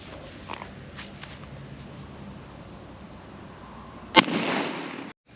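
A single gunshot rings out near the end from a Taylor's & Company .45 Long Colt revolver fired at a safe, a sharp loud crack with a short noisy decay after quiet ambience.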